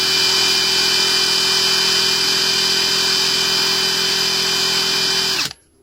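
A Parkside Performance X12V cordless impact wrench spins freely at full speed with a loud, steady high-pitched motor whine that holds for several seconds, then cuts off abruptly.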